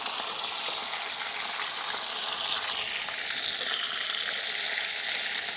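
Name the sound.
stirring chicken frying in the pan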